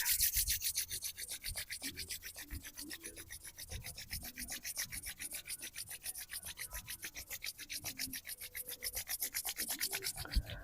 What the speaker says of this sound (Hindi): अब दोनों हथेलियों को आपस में रगड़ें स्पीड के साथ।